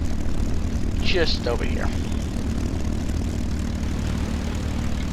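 A P-51D Mustang's propeller engine drones steadily while taxiing in a WWII flight video game, a loud continuous low rumble running throughout with a brief spoken voice over it near the start.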